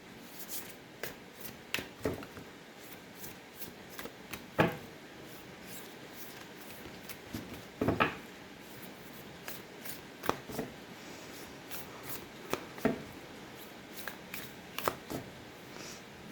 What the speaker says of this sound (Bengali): এই ডেক থেকে দুটি কার্ড নেব।